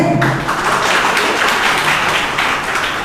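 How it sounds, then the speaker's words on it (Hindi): Audience applause at an AI workshop, welcoming the speakers: dense, steady clapping from a crowd that holds at an even level for about three seconds, with no voices over it. "प्लीज गिव अ ग्रेट तालियां हो जाए"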